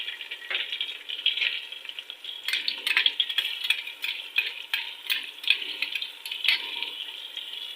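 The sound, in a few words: chicken frying in pan with garlic ginger paste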